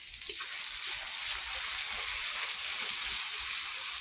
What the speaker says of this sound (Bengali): এবারে দিয়ে দিলাম দালচিনি, এলাচ আর হচ্ছে তোমার গোলমরিচ দিয়ে দিলাম সব। এটাকে ভালো করে কষাবো।